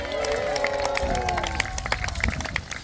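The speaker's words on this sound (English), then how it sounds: "Big cheer for the knights!" Spectators at the Arundel Castle history festival cheer and applaud the knights, a sustained mix of raised voices and clapping that holds steady throughout, with scattered sharper claps poking through the crowd noise.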